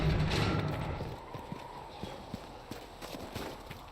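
Horse hooves clip-clop at a steady walking pace in the fantasy game Dragon Age: Inquisition, moderately close and alone, with a brief faint voice near the start.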